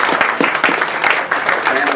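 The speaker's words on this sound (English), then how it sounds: "Let's give him a round of applause real quick" Audience applause for the moderator at a community talk event, a loud, dense spread of clapping with voices mixed in beneath the claps.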